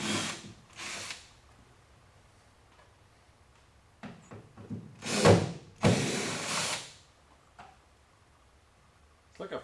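A power drill backs screws out of a 1976 Trans Am's rear body during a wheel flare install, with several short whirring bursts spaced apart amid quieter workshop pauses and faint handling noises.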